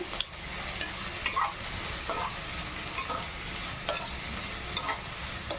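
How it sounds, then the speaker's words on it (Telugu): Onions frying in a pan for paneer butter masala produce a continuous close sizzle, broken by regular light scrapes and taps of a spoon being stirred about every second, with no talking. "కొంచెం దీన్ని వేగనివ్వండి."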